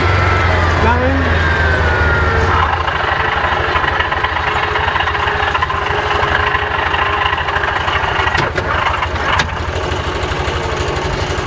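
A 2021 Axis 500 running on deceleration gives a loud, continuous mechanical drone and grind, with a low engine hum that drops away early and a steady rasping whine holding through the rest.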